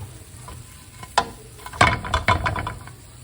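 Garlic bits frying crispy in oil, with a steady close sizzle broken by a few sharp crackles and stirring clicks, no talking.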